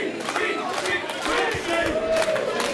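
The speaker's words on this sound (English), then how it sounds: "The crowd is going nuts." A wrestling crowd roars and yells at a match in Texas, a loud sustained wall of voices with scattered shouts rising out of it.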